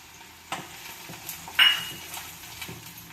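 Garlic fries in hot oil for a lemon pickle, added after ginger: a soft, steady sizzle with a few metal spoon clinks against the pan and one brighter scrape near the middle, with no talking.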